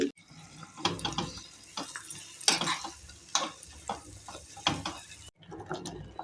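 Dry coconut, cashews and raisins dropped into a pan for North Karnataka wheat huggi, giving soft scattered rattles and light stirring scrapes with a faint sizzle, close by and moderately quiet, with no talking.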